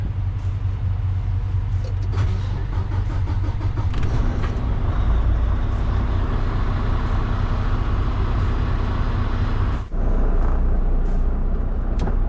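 A semi truck's big diesel engine rumbles steadily at a truck stop, a dense low idle with repeated sharp hisses and clicks along the way and one brief dip near the end, with no talk.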